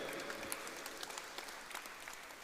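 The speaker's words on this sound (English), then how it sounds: "And your applause also can continue." An audience at a rugby sponsors' felicitation ceremony claps steadily, a soft, somewhat distant patter of many hands with a few sharper claps, continuous throughout and without any talk.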